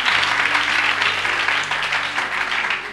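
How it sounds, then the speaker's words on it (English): Sustained applause from a congregation at a church healing service, loud and steady for the full stretch with no talk. "pull those hands together and appreciate Jesus."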